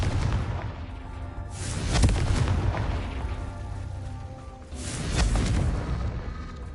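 Two deep booming blasts from the Confringo fire spell in Hogwarts Legacy on PS5, one near the start and a second a few seconds later, each a loud low rumble with a crackling tail over continuous game ambience.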